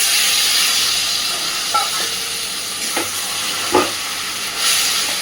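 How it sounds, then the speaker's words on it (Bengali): A little water poured onto spice paste frying in a pan, setting off a loud, sustained steamy hiss with a few soft stirring knocks. "অল্প একটু জল দিয়ে দেবো যাতে মশলা পুড়ে না যায়"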